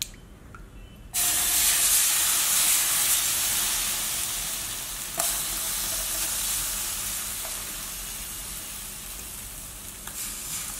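Rava dosa batter poured onto a hot pan bursts into a loud, sudden hiss that holds steady and fades slowly over several seconds, with a few faint clicks of the utensil, heard close and without speech.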